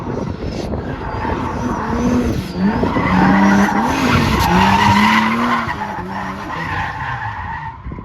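A drift car skids loudly around the Willow Springs track during a crash, with a sustained high engine whine and wavering tire squeal that swells and fades over several seconds, close and dominant.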